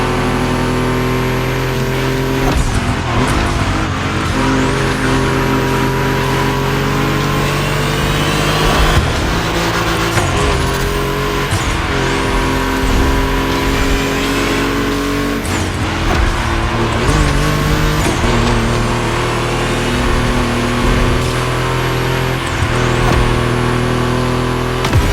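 Volkswagen cars racing in The Crew Motorfest, loud engines revving and shifting continuously, with rising and falling whines as gears change and cars pass close, sustained throughout with no talk.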